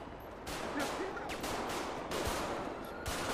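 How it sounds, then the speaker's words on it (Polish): Gunfire in the game GTA V during a roleplay police scene: several sharp shot bursts crack out over a constant noisy background, loud and close, spaced irregularly across the clip. "Do kogo są strzały?"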